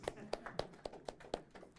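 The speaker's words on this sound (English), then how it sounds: "Please, let's give Terence a round of applause." A few scattered hand claps from a small audience at a research day talk, about six distinct close claps in under two seconds, quiet and uneven.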